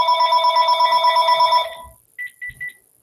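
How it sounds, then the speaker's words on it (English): A phone rings with an incoming call, a steady trilling electronic ring that stops, then three short beeps follow. "Sorry, the phone call."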